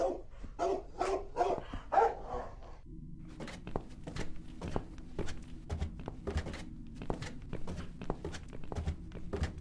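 Barking dog in The Cat Lady video game, a run of loud, close barks and yips repeating through the scene, with a gruff game-character voice speaking over the first few seconds.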